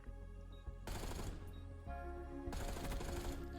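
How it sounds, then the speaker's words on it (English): Gunfire in Black Ops 6 during a Search and Destroy ranked match, with dense bursts of shots and impacts in two loud blocks separated by a brief lull, close and punchy over steady game ambience. "So I've just shot."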